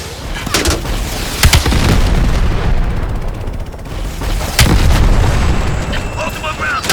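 Call of Duty Cold War combat: heavy gunfire and booming explosions crash repeatedly in loud bursts over a constant roar of battle, with shouted voices mixed in.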